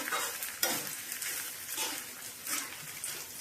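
Dry red chillies frying in a pan for homemade Andhra-style menthikaram curry powder, a soft, steady crackle and scrape of stirring with a few sharper pops, fairly quiet and without talk.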